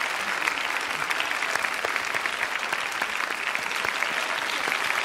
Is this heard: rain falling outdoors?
no